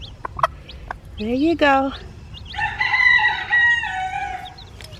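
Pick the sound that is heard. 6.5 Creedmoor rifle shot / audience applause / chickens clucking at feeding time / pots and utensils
chickens clucking at feeding time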